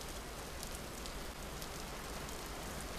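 Steady rain falling in the Vintage Story game world at night, an even, continuous hiss of drops on surfaces with no voices and no pauses.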